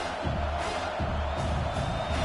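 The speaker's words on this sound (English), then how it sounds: "how nice is it to have the home crowd going absolutely bananas?" Home crowd roaring in the College Football 26 video game, a dense, steady wall of cheering with low rumbling pulses underneath, loud and sustained throughout.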